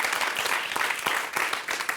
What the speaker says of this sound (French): On peut l'applaudir Arnaud quand même.